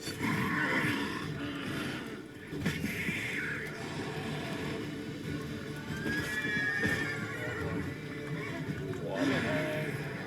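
Roach the horse, in a video game, neighs and whinnies while its hooves clip-clop in a trotting rhythm, with game ambience and a voice talking over parts of it.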